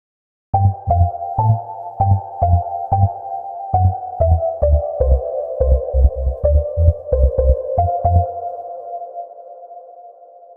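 A synthesizer preset called Air of Resonation plays a pulsing arpeggio pattern, punchy low thumps under a ringing tone, then the notes stop and a sustained pad fades out.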